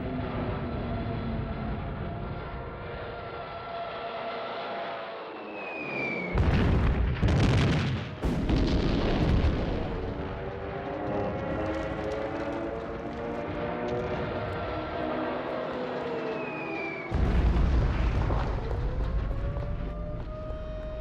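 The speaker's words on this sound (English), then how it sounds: "On the 25th of September, Hitler orders the bombing of Warsaw." Heavy explosions and artillery from the bombing of Warsaw boom in repeated loud blasts, with deep rumbling and whistling falling shells between bursts, dense and continuous with no speech.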